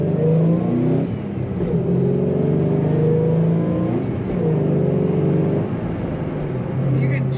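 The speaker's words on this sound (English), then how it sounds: "You can just slightly hear that whine combined with the exhaust note coming out the tailpipe, and it sounds great." A 2006 Ford Mustang Saleen S281 supercharged coupe with manual transmission cruising on the highway, its steady engine drone and exhaust note holding throughout with faint supercharger whine and shifting tone as it accelerates.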